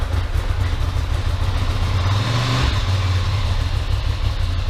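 A Ducati ST2 motorcycle engine, under restoration and on choke, catches and runs with a steady low rumble, loud and close throughout, with a brief swell partway through.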